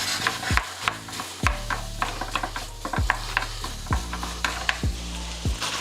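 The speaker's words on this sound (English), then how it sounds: "Now we're getting ready to start browning our, our beef." Ground beef browning in a pan, two pounds of it, with a soft continuous sizzle broken by repeated scraping and stirring knocks from a utensil, close and fairly loud, no voices.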